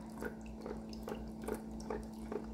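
Diluted caustic soda solution trickles gradually into a stirred mix of alcohol and oil, faint repeated drips and small splashes at a slow, regular pace over a low steady hum.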